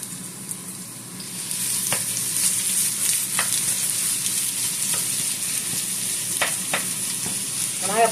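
Chopped onions and collard green stems fry in a pan with a steady, bright sizzle, broken by a few sharp clicks and scrapes of stirring.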